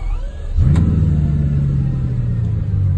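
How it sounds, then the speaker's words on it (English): A Bugatti Chiron Sport engine fires up after a brief quiet moment, surging into a loud, deep, steady rumbling idle that holds close and alone to the end. "This is how you start a Chiron Sport."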